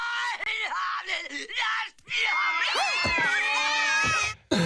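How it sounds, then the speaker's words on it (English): Cartoon cats meowing and screeching from a Simpsons TV scene, with loud, drawn-out yowls and wails that overlap in a chaotic cluster, a brief dip near the middle, then a sustained screeching chorus. "she meows and she throws cats"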